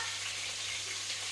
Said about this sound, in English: The sizzling's getting louder.